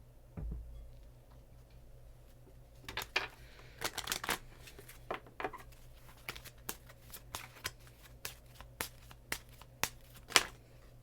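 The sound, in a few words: shuffling tarot cards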